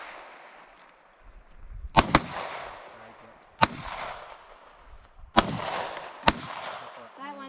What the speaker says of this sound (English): Okay, now shoot.